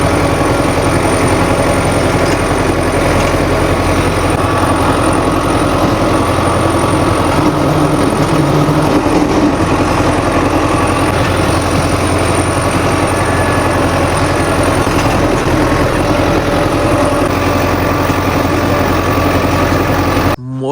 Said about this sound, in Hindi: अभी खुद अब बैठ के जी रूटावेटर चला रहे हैं